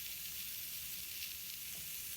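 Flipped chicken pieces sizzle in a hot pan while beer-braised chicken cooks, a dense, even, close-up hiss with no talk over it.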